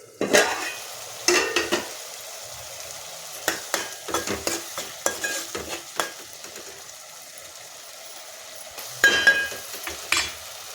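A spoon stirs chickpea chole curry in a pan, bursts of close scraping and clattering strokes over a soft sizzle, with a pause in the middle before a final flurry.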